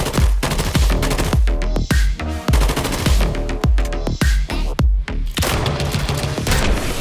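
Rapid gunfire in the Promod FPS game's Kill Run single-player run-and-gun mode: loud bursts of automatic shots with sharp booming reports, nearly continuous with brief gaps.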